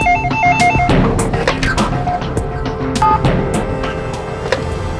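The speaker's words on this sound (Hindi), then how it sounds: "तो भी फोन उठाओ" A phone rings in a tense crime-drama scene, its repeating electronic ring tone pulsing in short bursts over busy background noise and clatter.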